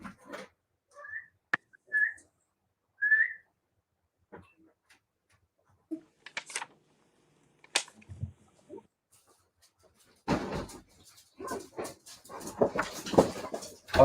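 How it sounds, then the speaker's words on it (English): Dogs whimper in short high thin whines spaced apart in a quiet room, with scattered soft clicks and shuffles, before a stretch of close talking and movement noise at the end. "These dogs are driving me crazy."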